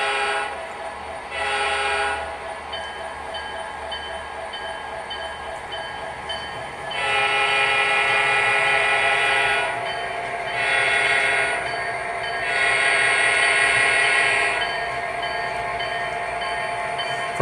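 An MTH O-scale BNSF SD70ACE model locomotive pulling freight cars rumbles steadily along the track while a horn sounds in repeated blasts, some short and some longer, over the continuous running noise.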